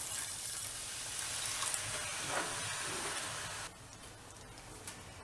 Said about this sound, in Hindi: देखो मैंने यहाँ सिर्फ 1/2 कप पानी डाला है।